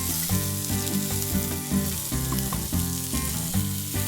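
Bacon-wrapped, cheese-stuffed shrimp frying on a cast iron griddle, a steady hissing sizzle running under rhythmic background music with no talk.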